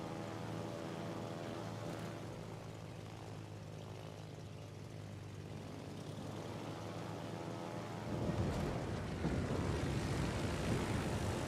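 Propeller engines of spotter planes in the naval combat game World of Warships, a steady droning hum that swells louder toward the end.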